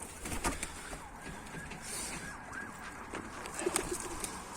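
Mardin pigeons cooing outdoors, soft murmuring calls repeating over steady background noise, with no voices.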